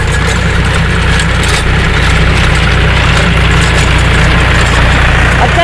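A tractor fitted with an Agrigate sugarcane rotavator runs at 1200 RPM, its engine heard up close as a loud, steady, smooth drone with a constant low throb throughout.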